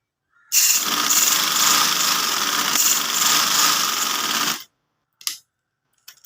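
A sewing machine stitches a shalwar seam in one steady, loud run of about four seconds, then stops abruptly, followed by a couple of faint clicks.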